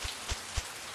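Cartoon rain falls, heard as three soft, evenly spaced drip thumps over a faint, steady patter.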